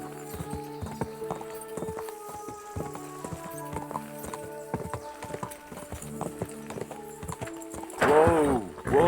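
Horse hooves clip-clop at a gallop in Kingdom Come: Deliverance 2, a steady rapid rhythm close by, with a whinny and heavier movement near the end.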